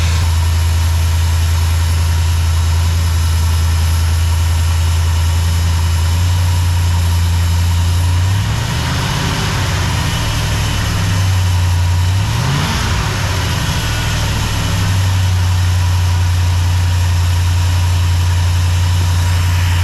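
A 1968 Ford Mustang with a 289 V8 idles close and loud in a steady low rumble, with brief wavers in the engine speed partway through.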